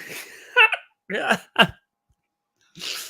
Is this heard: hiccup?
yes